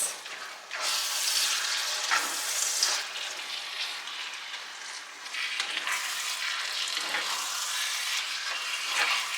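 Meat sizzles and fries in a pan while being stirred for stuffed peppers and cabbage, a steady close crackle with scraping movements and no talk.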